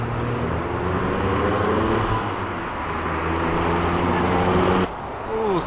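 Car engine at a car show held at CSF Radiators, running with a steady sustained drone and harmonic tones rising slightly as it revs, close and loud, with people talking and cheering over it before it cuts off near the end.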